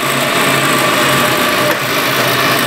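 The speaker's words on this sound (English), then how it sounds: "We'll fire this thing up and we'll roll the thread" Thread rolling machine rolling an 8 millimetre thread with cooling lubricant on the rollers, giving a loud, steady, dense mechanical whir that runs unbroken and alone.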